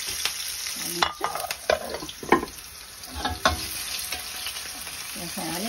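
Vegetables and cauliflower fry in hot oil for pakora, a steady sizzle with bursts of stirring and scraping in the pan, close and moderately loud throughout.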